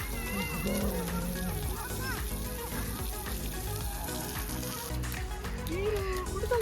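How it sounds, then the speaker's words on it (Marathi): Water runs continuously through a small artificial stream built for children to play in at a park in Canada, a steady rushing splash heard close and without pause, with voices and other outdoor activity mixed in. "आणि कंटिन्युअस पाणी चालू असतं, त्याच्यामध्ये मुलं खेळू शकतात."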